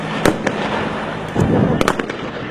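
Several sharp gunshot cracks from commandos during a Bangladesh Army counter-terrorism drill, sounding as sporadic loud bursts in quick succession over a steady background din.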